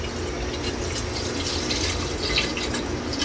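Water pours steadily into a cooking pot, about half a glass of it, before squid is boiled. The splashing liquid runs alone and fairly evenly the whole way through.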